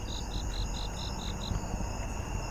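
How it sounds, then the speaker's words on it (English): A Japanese burrowing cricket chirps outdoors at night, giving a quick run of about seven evenly spaced pulses before falling silent against steady background insect noise. "I'm hearing a Japanese brewing cricket up here."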